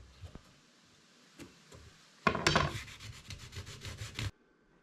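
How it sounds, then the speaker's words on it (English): Light sanding across the top of a wooden cornhole board trimmed in old barnwood, heard as a steady scratchy rubbing run of about two seconds, close and fairly loud, after a few faint taps and knocks. "I'm going to give this just a very light sanding to give me a little more of a level surface"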